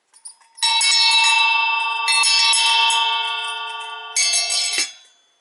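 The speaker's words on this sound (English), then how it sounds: "it is a elephant bell. I'm gonna let you hear this thing." An antique elephant bell with a claw clapper rings loudly and alone, a bright sustained metallic ringing in three long bursts with brief gaps, fading at the end.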